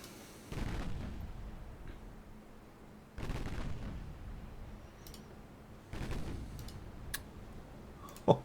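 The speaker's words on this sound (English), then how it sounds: "I have another exploding transport." Transport vehicles explode in a war video game set in the Netherlands, three deep booming blasts spaced a few seconds apart with lingering rumble, followed by a sharp click at the end.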